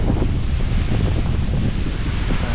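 Fierce wind buffets the microphone on rocky terrain near a tall waterfall in Yosemite, a loud, steady low roar with constant gusting rumble and no voices.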